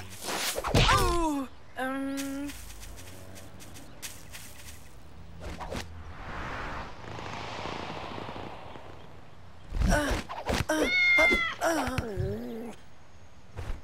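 A cartoon cat in a children's animated series gives several wavering meows and yowls, loud and close, in bursts at the start and end with whooshing and thwacking effects and a hissy stretch between.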